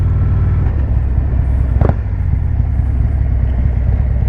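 A Harley motorcycle engine idles with a loud, steady low rumble throughout, broken by one brief sharper burst near the middle, with no talk.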